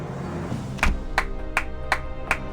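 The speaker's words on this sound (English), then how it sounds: "a deafeningly hollow clap suddenly filled the room" A hollow, echoing clap from the Limbus Company video game sounds five times in a steady, evenly spaced rhythm, loud and sharp over a low background hum.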